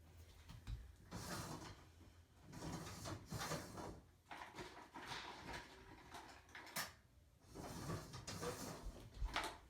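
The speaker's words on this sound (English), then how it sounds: "That is the sound of me digging through drawers for a little" Drawers are rummaged through while searching for a small chipboard heart, giving repeated clattering bursts of wood and small objects being shuffled, close and fairly steady, with brief pauses between bouts.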